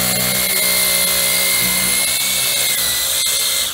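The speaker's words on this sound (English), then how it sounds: "So I brought a electric sander here, and we're just going to go through and sand off, get rid of some of the extra bumps here of the PC Woody" An electric sander grinds down PC Woody wood filler patched into a rotted window sill, a steady loud whirring drone running unbroken and close throughout.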